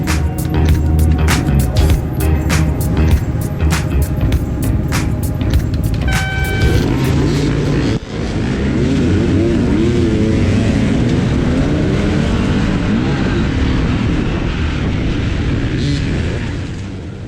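Dirt bikes roar off the line at a hare scramble race at Cook Creek on Vancouver Island, loud engines revving and buzzing up close, rising and shifting as riders pull away, fading slightly toward the end.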